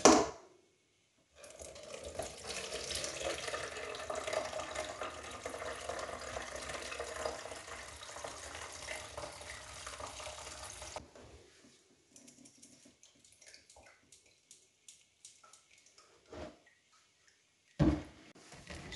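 Homemade chicken broth poured through a sieve, a continuous splashing rush of liquid for about ten seconds, then a few faint trickles and drips before a brief clatter at the end.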